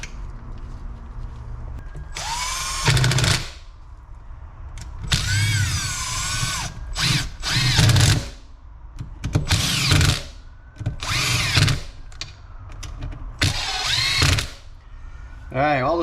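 A power drill driving screws into Kawasaki KFX400 engine cases, several short whirring bursts at a steady working pace, close and fairly loud, with a voice talking between them.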